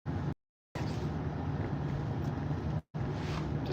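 Strong, bitterly cold wind at around minus thirty buffets the microphone outdoors, a dense continuous roar with low rumble, broken by two brief dropouts of near silence; no talk.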